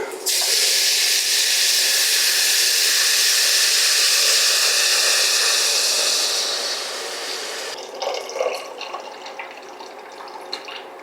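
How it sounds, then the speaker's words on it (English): Four cups of stock pour steadily into a hot pan of frying jambalaya with a loud sizzling hiss, then the sizzle quiets to softer bubbling and clinks. "we're going to stop the frying process by adding in 4 cups of stock"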